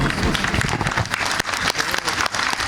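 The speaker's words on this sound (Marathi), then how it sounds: "सगळ्यांनी उभं राहून एकदा टाळी वाजवावी" Audience applauding together while standing at a ceremony conferring a saint's title on a spiritual figure: dense, steady clapping from a nearby crowd throughout, with murmured voices underneath.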